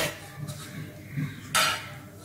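A covered container of fermented vellayappam batter is opened, with a few soft knocks and then one brief, sharp scraping clatter of the lid near the end in a quiet kitchen.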